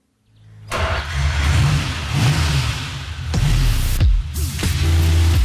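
A 1964 Ferrari 250 GT Lusso on a test drive in northern Germany fires up and pulls away, its engine rising through loud revs with several sharp gear-change dips, heard close and without talk.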